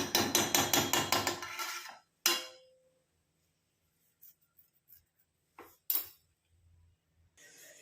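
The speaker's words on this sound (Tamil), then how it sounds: "ஒரு மூடியை போட்டு நம்ம மூடி வச்சிடலாம்." A lid is fitted onto a container of homemade natural hair dye: a quick run of sharp taps, then a single clack and a few faint clinks and knocks spread across otherwise quiet moments.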